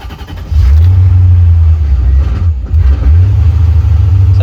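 A C4 Corvette's engine catches and revs loudly and steadily up close, with a brief dip in the middle before the engine note climbs again.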